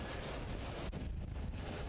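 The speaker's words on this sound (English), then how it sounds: "there is a lot of wind here at Rowrah today" Strong wind buffets the microphone at the Rowrah kart race track during a Super One round, a steady low roar and rush with gusty dips and no voices.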